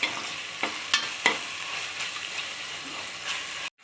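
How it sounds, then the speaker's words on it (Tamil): Ginger garlic paste fries in hot oil in a pan for a shrimp biryani, giving a loud continuous sizzle with a few sharp scraping stir knocks early on, then cutting off abruptly near the end. "ஒன்றரை டீஸ்பூன் இஞ்சி பூண்டு போட்டாச்சு இதை நல்லா வதங்கட்டும்"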